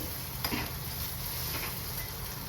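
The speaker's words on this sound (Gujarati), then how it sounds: "આદુ મરચાં લસણની પેસ્ટને થોડીક સાંકળવા દઈશું" Ginger, chili and garlic paste sizzles and fries in a pan on the stove, a steady close hiss with a few light scraping stirs and clicks.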